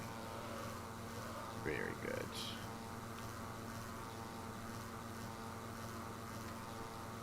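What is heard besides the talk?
propeller plane flying in video game Microsoft Flight Simulator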